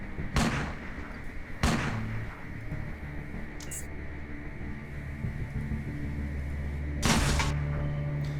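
Heavy shells fired at a turret in the video game Underrail, three or four loud, widely spaced booming shots over a low humming background.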